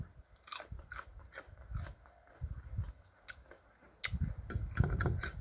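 Crisp bites and crunchy chewing of fresh raw Thai olive fruit eaten with jaew chili dip, a series of sharp close crackles in irregular bursts, growing louder toward the end, without talk.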